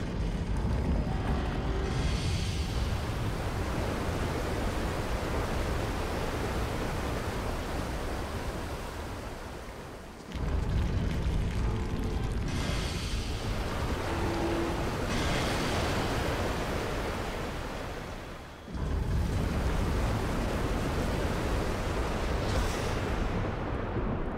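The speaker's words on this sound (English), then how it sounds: "A faint trickle of water is audible at the edge of your hearing. It grows steadily in a roaring torrent." Water in the Pillars of Eternity video game surges into a loud, continuous roaring torrent, dense and broadband, swelling in waves that briefly dip before crashing back at full force, with no voices.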